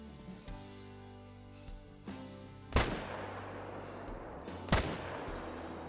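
Two sharp hunting rifle shots ring out in the Call of the Wild video game during a kudu hunt, each a loud crack with a lingering echoing tail, about two seconds apart, over quiet ambience.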